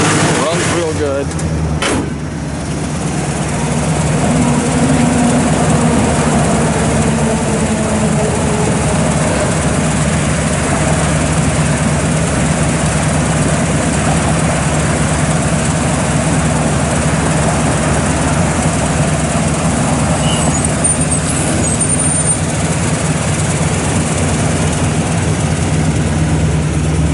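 A rebuilt 1967 Pontiac GTO engine with dual exhaust idles steadily nearby, a loud, deep continuous rumble after a brief startup burst, as someone talks over it.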